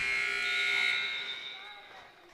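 Basketball game clock buzzer sounding at the end of the first quarter, a loud sustained electronic drone lasting about two seconds before fading, with crowd noise beneath.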